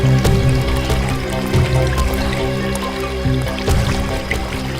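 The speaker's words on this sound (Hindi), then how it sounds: "इस तरफ से पानी के बहने की आवाज आ रही है" Water flowing nearby out of sight, a continuous wet, dripping trickle with small splashes, fairly loud and steady throughout, with no voices.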